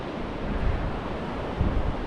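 A river rushes through a deep, narrow gorge far below a mountain trail on the Everest trek near Tengboche, a dense, steady roar with rumbling low surges, loud and continuous with no voices.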